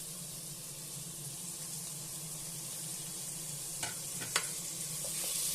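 Tomato frying in hot oil for an avarekalu (hyacinth bean) pulao, a steady broadband sizzle with a low simmering rumble throughout, and a few sharp utensil scrapes and clicks near the end as the pan is stirred.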